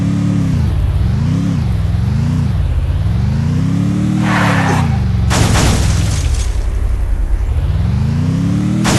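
Vehicle driving in the Free Fire video game, a loud engine whine rising and falling with revs, joined midway by a sharp crash or boom burst, close and continuous.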